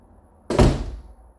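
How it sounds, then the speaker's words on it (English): A door swings shut with a single solid thunk, close and fairly loud, then fades quickly into a quiet room. "that door closed so quick"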